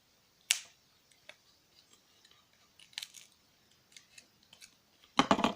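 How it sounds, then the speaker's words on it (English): A few sharp, dry snips sound close by as cutters clip through a phone charger cable, with faint rustling between cuts and a final cluster of quick clicks. "Now you want to snip this entire thing off."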